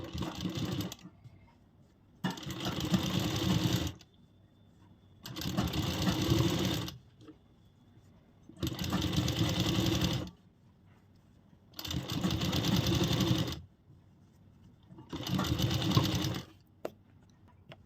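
A sewing machine stitches along the folded edge of kurti fabric in five separate runs. Each burst lasts a second or two, is close and loud, and is separated by short quiet pauses.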